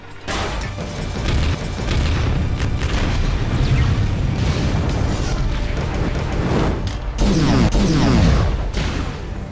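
A reactor explodes in an action film scene: loud, sustained booming blasts and crashing debris with rumbling mechanical noise, dense and continuous throughout, swelling again toward the end.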